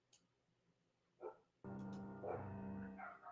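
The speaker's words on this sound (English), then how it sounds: "Sorry about the dogs." Dogs bark indoors, two short yips followed by a louder, sustained bout of barking and whining that carries on to the end, fairly close but moderate in level.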